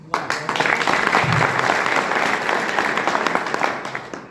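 Steady audience applause fills the room, dense clapping from many hands that starts abruptly and holds at an even level.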